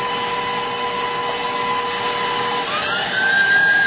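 Electric mixer whirring at high speed through buttercream frosting, a loud close whine with a pitch shift near the end as the load changes, heard alone.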